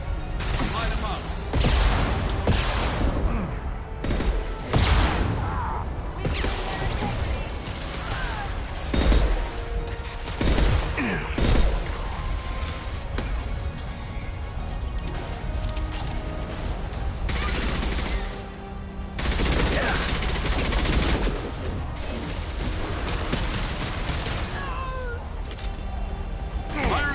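Repeated gunfire in the sci-fi video game Mass Effect 2: dense, sharp shots and bursts crackle continuously through a chaotic combat mix, with voices and other game sounds layered over the fighting.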